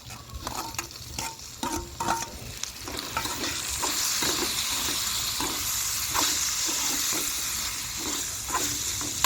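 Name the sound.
avarekalu (field beans) frying in oil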